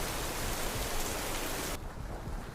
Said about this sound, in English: that's some good heavy rain ambience